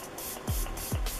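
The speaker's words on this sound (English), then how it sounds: "I'm just going to wet my sponge because I'm lazy with a setting spray. Oh, this is the one from Flower Beauty." Two short, soft hissing bursts of Flower Beauty setting spray misted onto a makeup sponge, close and quiet.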